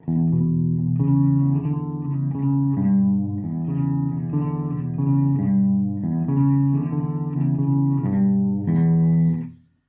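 A Godin guitar plays a rhythmic blues shuffle in minor built on a low G, with repeated chugging note pairs in a steady swung pulse, clear and close, ending with a brief pause.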